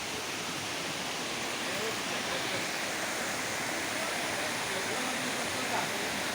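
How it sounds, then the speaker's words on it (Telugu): A waterfall at Maredumilli in the old East Godavari district roars with a steady, broadband rush of falling water that fills the whole clip at an even level, with no voices heard. "మారేడుమిల్లిలో వాటర్ ఫాల్స్ ఎంజాయ్ చేస్తున్నాము"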